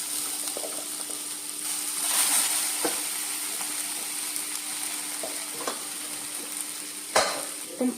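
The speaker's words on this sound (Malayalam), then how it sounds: "ഇതുപോലെ ഒരു തടി തവി കൊണ്ട് നമുക്കിതൊന്ന് ചെറുതായിട്ടെല്ലാം ഉടച്ചൊന്ന് കൊടുക്കാവേ" Tapioca sizzles steadily in a pan over low heat while a wooden spoon stirs and mashes it, with occasional dull knocks against the pan.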